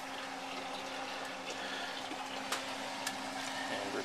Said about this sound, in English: I take my pan and I take and dump it here into the strainer